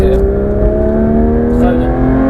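Porsche 992 GT3 RS accelerating hard on a race circuit, loud steady engine drone with rising pitch and wind roar heard from inside the car.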